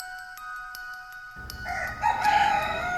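A rooster crows out across a quiet scene, a drawn-out cock-a-doodle-doo swelling in the final second and a half, standing alone against a faint tonal hum with no voices.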